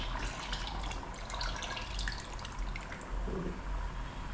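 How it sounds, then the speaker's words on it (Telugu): Water poured into a simmering fish curry in a pot, a soft continuous trickle and splash heard up close and fairly quiet, with no talk over it. "నీళ్ళు చాలలేదమ్మా కొంచెం పోతున్నాను"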